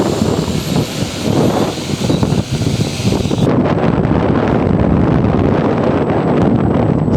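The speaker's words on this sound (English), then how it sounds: "Too much wind?" Strong wind roars and buffets steadily across an open field during a radio-controlled wing suit parachute test, loud and continuous with gusty surges.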